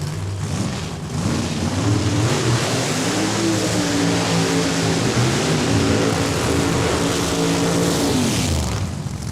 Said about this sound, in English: we've got side-by-side burnouts, the first feature run of the day